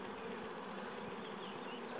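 A honeybee swarm leaving the hive fills the air with a dense, continuous buzzing hum from many insects. It is steady and fairly faint, heard outdoors among tree branches with no voices.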